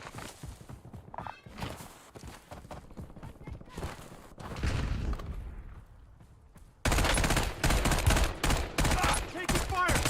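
Gunfire in Call of Duty: Warzone, bursts of shots rattling amid game effects and ambient noise, fairly loud, with a dense, sustained volley erupting abruptly in the last few seconds.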